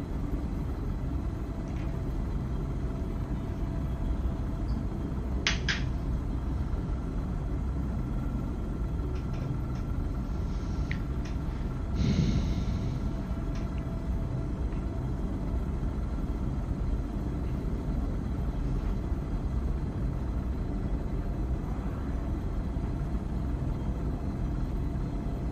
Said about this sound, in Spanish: Vaya, hay tormenta.